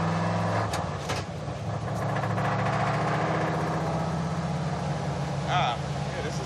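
A 1963 Chevy Impala rat rod with velocity stacks driving on a wet highway, its engine droning steadily and loudly throughout with road and water noise, while someone talks over it.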